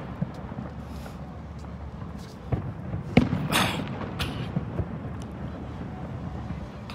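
Distant New Year fireworks over San Francisco, with scattered booms and one sharper crack amid wind rumble and ambient outdoor noise, faint and far off.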